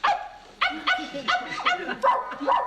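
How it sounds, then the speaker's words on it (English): A dog barks in a loud sound effect, a quick run of sharp yipping barks close up, fired in rapid bursts over a few seconds. "that dogs bark at me as I halt by them"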